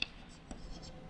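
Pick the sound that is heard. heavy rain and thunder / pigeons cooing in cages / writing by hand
writing by hand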